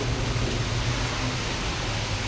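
Heavy rain pours steadily in Ambattur, a dense, even hiss that holds at one loud level throughout, with no voices.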